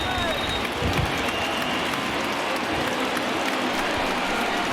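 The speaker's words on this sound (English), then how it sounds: "listen to this crowd now. They are really into this." A stadium crowd in the baseball video game MLB The Show 20, Mariners at A's, roars with bases loaded during a late rally, a dense, sustained wall of cheering and clapping that stays loud from start to finish.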